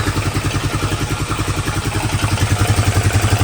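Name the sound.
Rancher ATV motor running after rebuild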